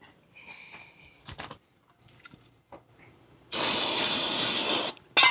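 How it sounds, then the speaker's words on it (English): A can of brake cleaner sprays onto RV disc brakes in a long, loud hiss lasting over a second, followed by a short second burst, after quieter clicks and handling noises. "spraying some brake clean on here"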